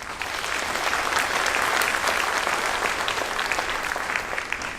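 An indoor audience at a Korean-American friendship evening applauds, a dense, steady wash of many hands clapping that stays loud for the whole stretch before tapering slightly at the end.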